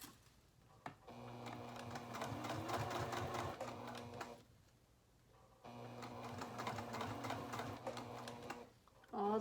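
A sewing machine back stitches along a zipper on a fabric coin purse, running in two steady bursts of close mechanical whirring separated by a brief pause, with a short clatter at the start and end.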